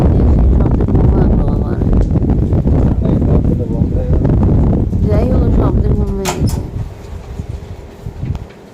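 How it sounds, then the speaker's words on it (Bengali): Strong wind roars and buffets the microphone in a loud, continuous rumble, easing toward the end with a few sharp knocks. "এই হাওয়া সব দিচ্ছে"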